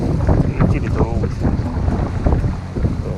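A fishing boat out at sea off Jinhae, toward Tsushima, on a hairtail and squid fishing trip. Gusting wind buffets the microphone over a low, steady rumble of engine and water, and faint voices mingle in now and then.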